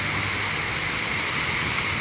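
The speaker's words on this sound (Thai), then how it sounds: "ฝนตกน้ำท่วมถนนเลย" Heavy rain pours down onto a flooded road in Lat Phrao, Bangkok, making a steady, dense roar of falling water that stays loud and unbroken throughout with no voices.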